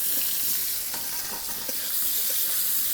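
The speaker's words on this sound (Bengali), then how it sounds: "এর উপর চাল কুমড়াগুলো দিয়ে দেব" Pieces of ash gourd stir-fry over potatoes already browned with turmeric in a hot karai, giving a steady loud sizzle with occasional soft scrapes of stirring throughout.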